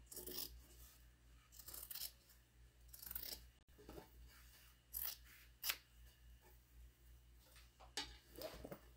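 Scissors trimming excess fabric while sewing a tote bag, with several short snipping and cutting bursts spaced apart, close and fairly quiet, with no talking.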